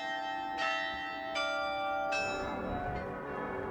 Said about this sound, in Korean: 시민들에게 위험을 알리던 종소리가 아름다운 연주로 되살아나는 이곳에서